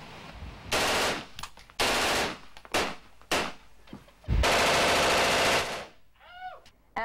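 Machine gun fire aimed at a pile of records and CDs at Iraklion Air Station, coming in loud, close bursts of rapid rounds separated by short pauses, with one long sustained burst near the end.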